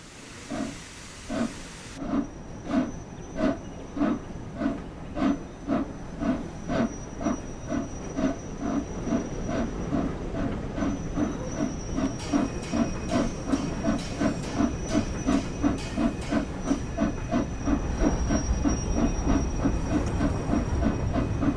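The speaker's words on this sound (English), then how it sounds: "Flying Scotsman in action." The Flying Scotsman steam locomotive in the Train Sim World game chuffs in steady rhythmic beats that quicken as it gets under way, with a constant steam hiss and faint rail clatter behind it.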